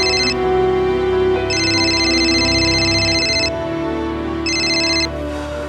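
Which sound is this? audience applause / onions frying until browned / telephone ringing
telephone ringing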